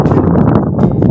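Strong wind at a farm buffets the microphone in loud, rumbling gusts, a continuous close roar with brief flutters throughout.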